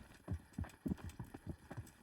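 Horse hooves clip-clop at a steady walking pace in Kingdom Come: Deliverance, soft repeated thuds at a moderate distance.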